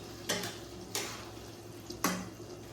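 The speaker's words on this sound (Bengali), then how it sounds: "এবার ঢাকা দিয়ে দিলাম।" A lid set down on a cooking pan of potol and prawn curry, three separate sharp metallic clanks spaced a second or so apart over a quiet kitchen background.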